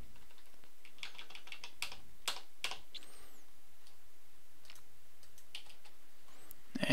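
Light computer keyboard typing while fixing a typo in microcontroller code, quick irregular key taps in short bursts with pauses, close and soft in a quiet room.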